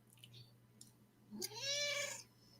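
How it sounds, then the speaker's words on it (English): A cat meows straight into a microphone, one drawn-out rising and falling meow that is close and clear. Faint clicks and a low steady hum come before it. "That was Shaggy just meowed in the microphone."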